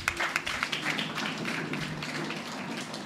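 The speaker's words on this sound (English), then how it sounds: "Boys and girls, please give him a big round of applause." Schoolchildren at a school space talk applaud, a ragged patter of small hands clapping in a room, opening with a few sharp claps and settling into a steady, moderately faint wash of applause.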